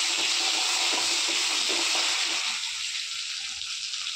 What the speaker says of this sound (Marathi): जिरं व्यवस्थित तडतडलं त्याच्यात टाकूया लसूण